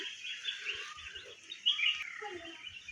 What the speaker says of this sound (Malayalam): ഇവിടെ ഇതാ കിളികളുടെ സൗണ്ട് ഇങ്ങനെ കേട്ടപ്പോൾ ഇങ്ങോട്ട് വന്നതാണ്